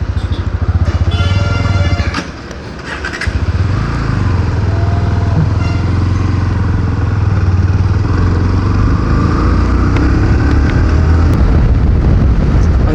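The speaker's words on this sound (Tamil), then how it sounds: "ஸோ வாங்க வண்டி எடுத்து வீட்டுக்கு போகலாம்." A motorbike rides along the Chengalpattu road with a loud, steady engine drone and heavy wind rush close to the microphone, and it dips briefly before holding its pace again.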